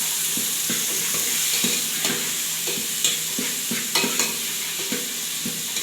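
Tomatoes with chili powder being stirred in a frying pan for paneer curry, with repeated scraping strokes over a constant close sizzle and no voices.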